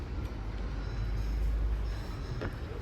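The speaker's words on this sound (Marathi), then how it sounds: "सो फायनली आपली ट्रेन आलेली आहे." A passenger train rolls through a station in Ahilyanagar, its deep, steady rumble of wheels and carriages loud and continuous throughout, with no voices over it.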